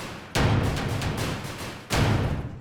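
Damage plugin preset Percussion Exploding Cards: two loud, dense metallic percussion bursts, each a heavy hit with long noisy tail and rattling, clattering detail, the second arriving after a brief dip.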